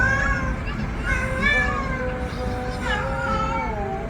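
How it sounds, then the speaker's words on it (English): A cat meows repeatedly at close range, a string of loud, drawn-out wavering cries running almost continuously for several seconds. "Here comes the cat."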